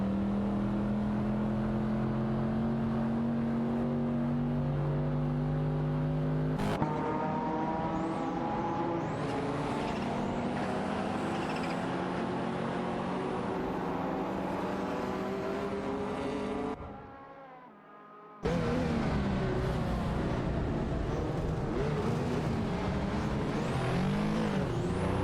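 Race car engines drone steadily in an AI-driven racing video game, a continuous high-pitched whine with shifting gear tones and a brief drop-out near the end, loud and without talk.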